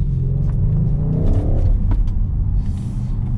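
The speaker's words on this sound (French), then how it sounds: "on entend l'échappement, c'est ouvert" A 2020 Audi ABT RS6-R in sport mode with its exhaust open gives a loud, close rumble that rises in a quick rev, then settles back to a deep throaty idle.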